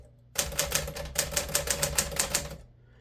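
A 1955 Smith Corona Super 5 manual typewriter clatters through a quick, even run of about a dozen keystrokes with a brief pause partway through, close and crisp, with no one speaking.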